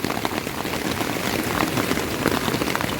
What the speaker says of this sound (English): it's pouring, it's actually pouring rain right now